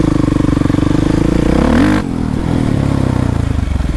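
A quad ATV engine revs hard and close, a loud throbbing buzz that rises in pitch, drops briefly around the two-second mark, then settles back into a steady, rough idle-to-midrange drone.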